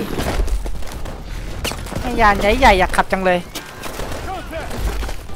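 Gunfire in the shooter game Call of Duty: Advanced Warfare comes as scattered sharp bursts and booms, with someone talking excitedly over and between the shots.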